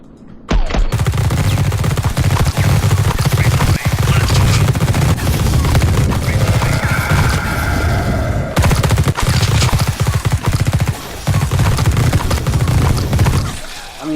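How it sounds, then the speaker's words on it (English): Sustained bursts of rapid automatic gunfire from The Red Solstice, a PC squad tactics game, rattle loudly and almost continuously, broken by one brief pause before the shooting resumes and then stops abruptly near the end. "we've just been shooting the exact same foe over and over again, all the time"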